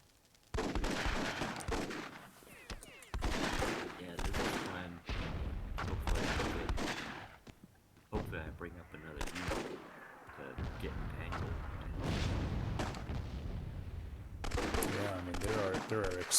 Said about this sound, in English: there are explosions everywhere.